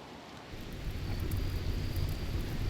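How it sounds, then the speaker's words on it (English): Rain and rolling thunder in the RimWorld video game form a steady, low rumbling wash that swells in and continues under light hiss, with no talk over it. "And there's the rain."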